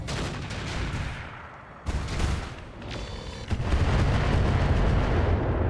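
Autocannon bursts of LBX cluster ammunition in the mech combat game RogueTech, fired at a Rakshasa: heavy booming blasts that thicken into a dense, sustained roar of impacts near the end.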